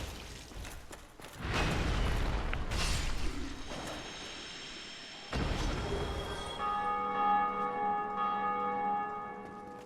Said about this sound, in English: Stop with the frickin' bell!